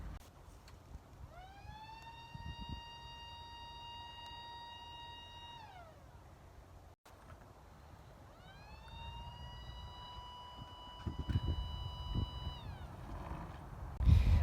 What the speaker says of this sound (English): Hope you guys enjoyed this distance test of my homemade siren.